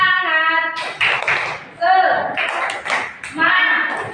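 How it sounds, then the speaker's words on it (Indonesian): Students in an Islamic primary school classroom perform a rhythmic spirit clap, with bursts of group claps in a patterned beat mixed with chanted voices, close and lively. "Tepuk semangat."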